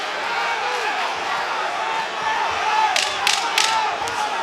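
Boxing arena crowd at the end of round five of Oscar Valdez versus Scott Quigg: a steady, dense roar of many voices, with sharp claps and cheers rising near the end.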